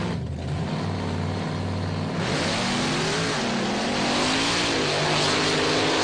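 At the 2002 Thunder on the Beach in Wildwood, New Jersey, monster trucks, among them one called the Bulldozer, launch off the starting line. Their engines roar and rev hard, rising in pitch together, loud and close, with no talk over them.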